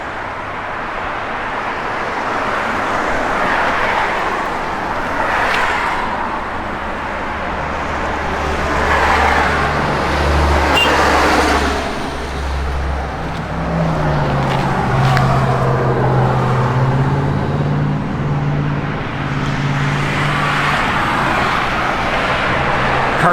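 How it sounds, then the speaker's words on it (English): A 1968 Chevrolet Camaro with a 396 V8, four-barrel stock intake and Hedman headers runs steadily, a low rumbling idle with a mid-clip swell of engine tone, loud and continuous without speech. "good running 396, 4-barrel stock intakes, got Hedman headers on it"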